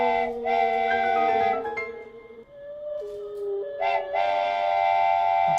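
A toy train whistle from a Lego Nintendo Entertainment System build toots in two sustained bursts with a lower, steadier tone between them, loud and close.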